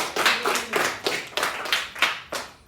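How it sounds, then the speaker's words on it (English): A small group claps for a presenter at a corporate presentation session, producing about seven distinct, fairly even bursts of hand claps in a loose rhythm, close and moderately loud. "Give him a big round of applause."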